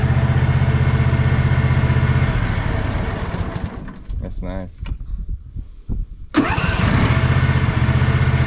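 Lawn mower with a newly replaced motor: a loud steady engine runs and fades, a few sputtering pulls follow, then the engine catches and roars back to a steady run, with talking mixed in.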